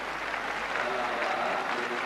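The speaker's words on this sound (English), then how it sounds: "And quite an excited crowd down at the far end of the stadium." Crowd noise fills a stadium at a decathlon pole vault, an excited mass of applause and cheering heard from a distance as a steady, broad wash of sound with no individual voices standing out.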